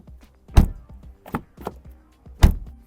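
Several solid thuds of a Volkswagen Passat NMS car door being shut, spaced irregularly, two of them heavy and sharp, with lighter knocks and clicks between.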